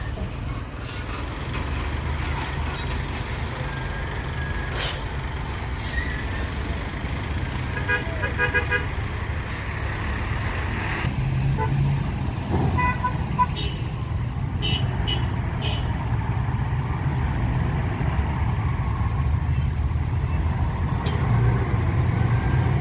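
Heavy engines rumble continuously as three giant trucks tow a tipped iso-tank tanker trailer truck during a roadside recovery, with several short horn toots scattered over the steady drone.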